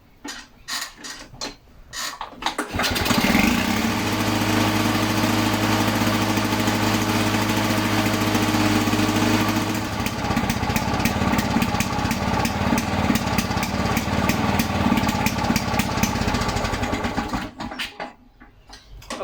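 A Victa lawn mower engine with its poppet valve set to letter C starts and runs at a steady, loud, buzzing drone for about fifteen seconds, then cuts out.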